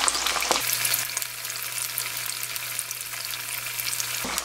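Sweet potato pieces for mattang fry in oil, a steady close sizzle with crackling pops, accompanied by a low constant hum from a kitchen appliance through most of it.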